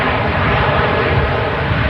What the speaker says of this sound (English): EasyJet on the spool up and take off roll